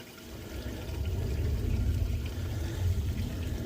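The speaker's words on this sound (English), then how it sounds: "once it's got the excess out of the bottom, that'll stop siphoning" Water siphoning out of a koi pond pours and gurgles steadily through a hose, a continuous low watery rush that swells slightly and holds at close range.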